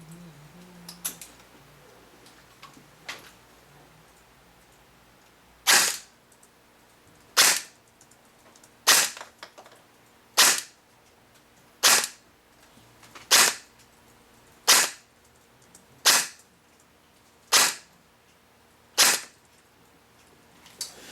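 Ares Full Metal M4A1 airsoft AEG fires single BB shots through a chronograph: about ten sharp, evenly spaced cracks roughly every one and a half seconds, loud and close, after a few faint clicks and a brief voice at the start.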